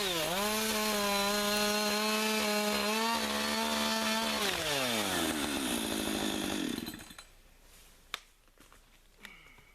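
A chainsaw cuts through a blown-down spruce log outdoors, a loud, close, steady engine whine that bogs and drops in pitch as it works through the wood, then cuts off, leaving faint scattered knocks.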